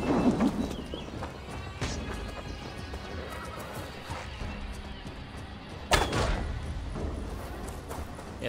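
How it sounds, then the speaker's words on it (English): Horse in the Assassin's Creed Valhalla video game neighing loudly near the start, followed by steady clip-clop of hooves and a sharp thump partway through, with faint game ambience underneath. "horse, stay there"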